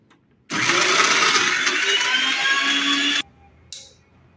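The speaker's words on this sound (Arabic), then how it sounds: "خصنا نعاودو في الطحين حتى يولي بحال الزبدة" A countertop blender grinds almonds into a smooth amlou paste, a loud steady whir running for about three seconds before cutting off abruptly, followed by a brief faint sound.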